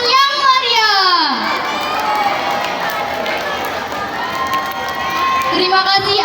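A school audience at a student council candidate debate breaks into loud applause and cheering, with children shouting over continuous clapping. A voice talks over the noise.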